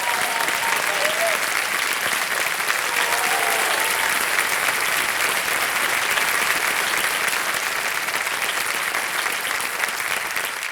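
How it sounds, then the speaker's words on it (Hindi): A studio audience at a quiz show applauds, a dense, steady wash of clapping that holds at full strength for about ten seconds, with faint voices briefly audible beneath it. "तालियां बज जाएं उनके लिए।"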